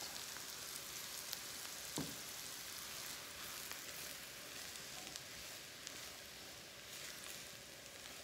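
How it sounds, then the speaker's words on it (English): Semolina roasts in a pan alongside sautéed vegetables for upma, giving a soft, steady sizzle throughout with a single clink of a utensil early on. "I'm going to put this semolina and roast it."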